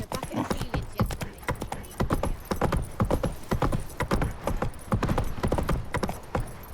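Roach the horse trotting in The Witcher 3: Wild Hunt, a brisk, continuous patter of close hoof clip-clops with a faint murmur of voices underneath.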